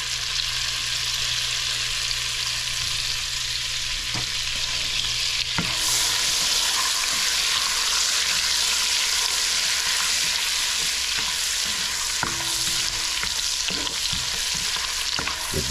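Two tablespoons of butter sizzle in a pot with bay leaves and cinnamon, a loud continuous frying hiss with occasional utensil clinks and stirring knocks, no talking.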